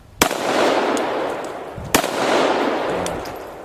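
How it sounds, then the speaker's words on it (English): A can is shot at outdoors with a pistol or shotgun; two sharp, loud reports about two seconds apart ring out, each followed by a long echoing tail. "I'm going to shoot at the, let's shoot that can"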